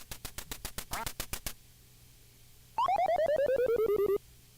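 Duck Hunt on the NES: a rapid run of loud, evenly spaced quacks and flapping clicks, then a pause, then a bright series of descending electronic beeps as a duck falls. Nobody speaks.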